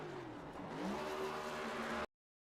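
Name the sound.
race car doing burnouts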